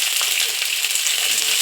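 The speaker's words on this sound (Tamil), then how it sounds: "சுண்டை வத்தலை போட்டு நல்லா வறுத்துக்கிடுவோம்." Dried turkey berries fry in oil, producing a loud, bright, unbroken sizzle close by, with fine popping crackles running through it.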